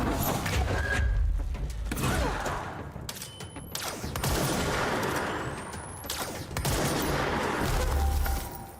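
Gunfire in a video game streamed live, several loud broadband shots and bursts scattered across the stretch with heavy low rumble, some sliding mechanical sounds in between, no clear talk.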